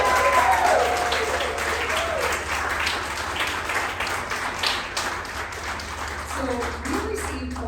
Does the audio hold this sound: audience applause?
yes